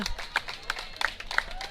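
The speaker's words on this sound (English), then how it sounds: "the fans from here in Mexico giving a big round of applause to their team" Fans at a women's American football game in Cancun, Mexico, clapping in a steady rhythm of sharp, fairly close claps, with a crowd murmuring softly underneath.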